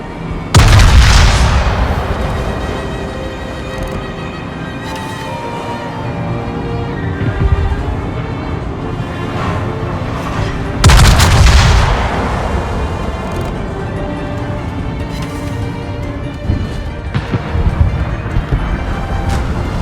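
Gunfire and artillery blasts aimed at the player in a WWII tank battle video game, with two heavy booming impacts several seconds apart amid a continuous rumble of shots and distant firing.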